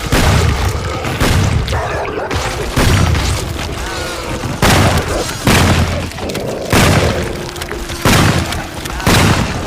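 Repeated heavy booming bursts of gunfire from an audio drama crash out at a steady pace, each blast loud and close, with voices speaking in between.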